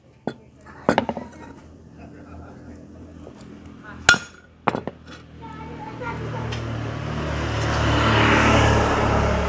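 A handful of sharp metallic taps of a hammer on metal ring out close by while making a disc brake caliper holder, spaced irregularly, followed by a rising wash of hissing noise.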